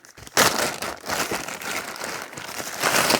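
Books wrapped in plastic bags are handled in a storage shed, making continuous close crinkling and rustling of plastic with brief pauses and no talk.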